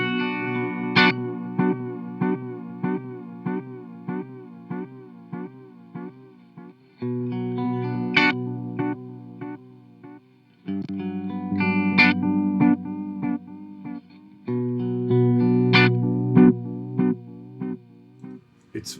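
Electric guitar played through an Old Blood Noise Endeavors Black Fountain delay pedal, with repeated phrases smeared into rounded, gooey, slightly grainy echoes; moderately loud and continuous with short breaks between passages.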